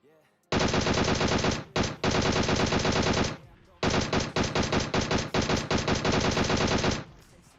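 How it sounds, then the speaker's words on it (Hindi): Automatic weapon fire in the PUBG Mobile battle royale game: loud, sustained machine-gun volleys, one long burst broken by a brief gap and then another extended string of rapid shots, up close and dominating everything else. "गोली तो ये वैसे भी चला ही रहे थे अभी भी"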